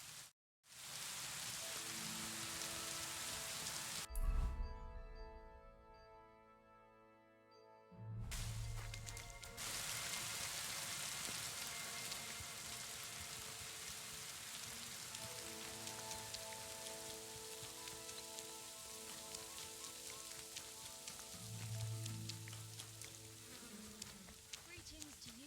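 Steady rain falls on the ground in Kingdom Come: Deliverance II, a dense continuous hiss lasting throughout, with a brief drop near the middle and a low buzzing hum underneath.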